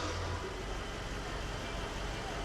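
Merkur XR4Ti engine being cranked, a steady low mechanical churn running evenly for the whole stretch at moderate, fairly distant level with no voices.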